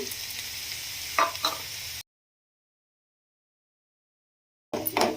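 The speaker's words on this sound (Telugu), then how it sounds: "ఆనియను తొందరగా ఫ్రై అవ్వడం కోసం కొంచెం పసుపు మూత పెట్టి మంచిగా ఫ్రై చేసుకోవాలి" Thinly sliced onions frying with ginger and garlic in a pan, a close, steady sizzle with a few stirring scrapes, cut off by a stretch of silence before the frying resumes.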